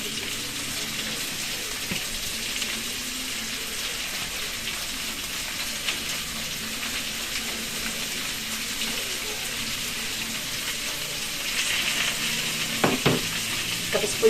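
Sweet and sour tilapia sizzles in a frying pan while it is stirred. The crackle stays steady and moderate, with occasional scrapes and clinks, and grows a little busier near the end.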